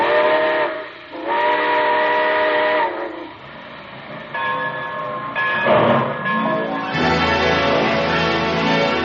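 A loud steam train whistle blows in several long, harmonic blasts as the train departs, with the chuff and rumble of the train building up underneath.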